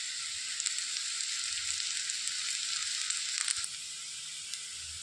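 A sprig of curry leaves hisses in hot oil for a potato fry, a steady bright sizzle with small crackles and pops, close and constant, and no one talks.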